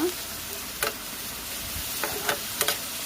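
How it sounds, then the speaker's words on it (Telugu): Curry leaves, green chillies and onions frying in oil in a pan, a steady close sizzle broken by a few brief stirring scrapes and clicks. "కరివేపాకు పచ్చిమిర్చి ఆనియన్స్ మంచి ఫ్రై అయిపోవాలి మంచి ఫ్రై చేసుకుంటున్నాను అనమాట"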